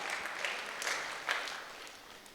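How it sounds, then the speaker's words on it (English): Audience applause at a motivational talk, a brief burst of clapping from a crowd, steady and moderately loud, with a few sharper claps rising above the wash before it thins out. "A big round of applause to all of you."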